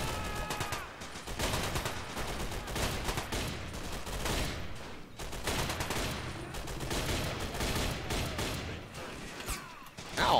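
Dense gunfire fills a video game firefight, a steady stream of loud, overlapping shots and bursts running throughout with sniper fire among them.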